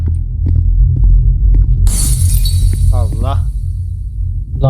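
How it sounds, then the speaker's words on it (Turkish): In a Roblox horror game, a car is smashed with a hammer, giving a sharp glassy shattering crash and a lingering ringing tail over a low hum, with voices talking around it. "Arabayı niye kırıyorsun?"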